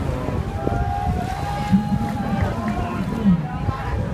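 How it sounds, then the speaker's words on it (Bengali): An overloaded boat's engine drones steadily with a low, labored, straining hum, mixed with wind noise and water, while people talk nearby. "ওভারলোড হয়ে গেছে দেখে ইঞ্জিন সাউন্ড করতেছে বেশি"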